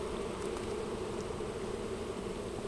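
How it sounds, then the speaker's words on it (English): Robber bees buzzing around an opened beehive during an inspection, a continuous dense hum with no breaks, fairly faint and steady, with no talking. "all these bees darting around up here on the up high, these are robbers"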